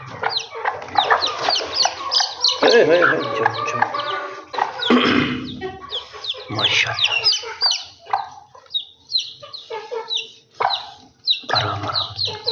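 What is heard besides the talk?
Golden Misri chickens clucking while being fed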